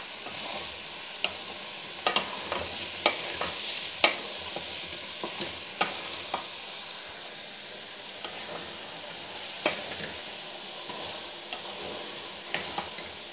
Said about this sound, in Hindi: आहिस्ता आहिस्ता हमारा प्याज और अंडे जो हैं वो ऑयल छोड़ना शुरू हो गए हैं